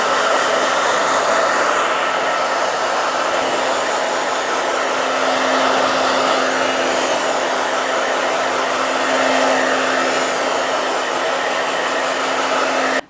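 A hair dryer blows continuously on freshly colored strawberry ombre hair, a loud steady whooshing drone with a constant motor whine lasting throughout, with no talking.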